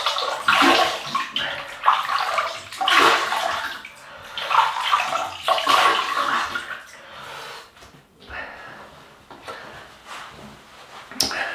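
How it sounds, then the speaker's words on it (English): Running water splashing as a synthetic shaving brush is wetted before a shave, a steady close rush with short bursts and pauses, alone with no talk. "So I'll just wet this thing."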